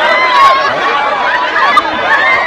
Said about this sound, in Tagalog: Grabe sigawan